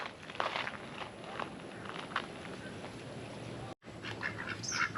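Mallard ducks on a lake by a state park campsite give faint, scattered quacks close by, with soft footsteps and light rustling in between.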